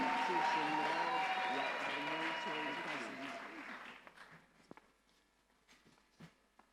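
Crowd applause and acclamation from a church congregation at the opening of an international conference in Congo. It is loud and dense at first, with voices mixed in, then thins to scattered claps and fades over the last few seconds.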